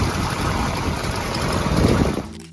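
A Chrysler 426 Hemi big-block V8 runs with a dense, rough, loud rumble that holds steady before cutting off abruptly near the end.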